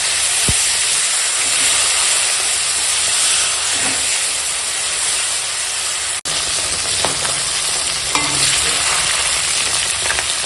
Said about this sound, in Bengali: আর দেখো এখন মাছগুলো ঠিক এরকম ভাজা হয়ে গেছে